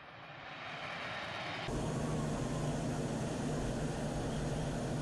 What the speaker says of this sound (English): Notice that it has taken off, retracting the landing gear, and climbing up to approximately 500 feet for a low speed roll.